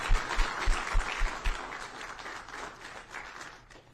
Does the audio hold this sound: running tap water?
no